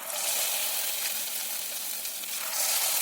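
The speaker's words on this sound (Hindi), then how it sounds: "इसी तरह बाकी के पनीर पीस भी हम फ्राई करेंगे" Paneer pieces deep-frying in hot oil give off a steady, dense sizzle with an even, close crackle and a brief swell near the end, with no voices.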